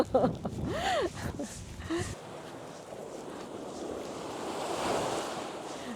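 Ocean surf washing onto the shore at a clean seaside along the Yeongdeok Blue Road coastal trail, a steady broad wash with wind noise, while people chatter and laugh over it in the first two seconds.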